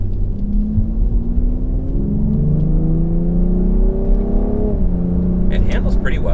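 A 473-horsepower BMW X3M performance SUV in normal driving mode on wet roads gives a steady, close engine drone whose pitch climbs as it accelerates, dropping briefly at a gear change before rising again.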